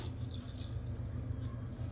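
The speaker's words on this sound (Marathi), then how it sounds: "आता याच्यामध्ये आपण पाणी घालूया" Water poured from a tap or vessel into a pot of chopped vegetables and peas for pav bhaji, a steady low rushing splash lasting the whole moment, close and unbroken, with no talking.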